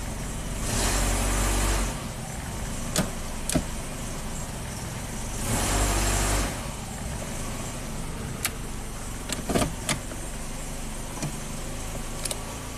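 A 1997 Kia Sportage 4x4 with a surging idle, running at idle with the fan and lights switched on: a steady low engine hum with two broad whooshing swells and several sharp clicks and knocks nearby.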